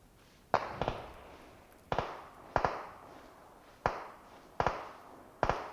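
Gunfire in the PUBG Mobile video game: a series of distant sharp cracks, some doubled, spaced roughly a second apart with soft echoing tails.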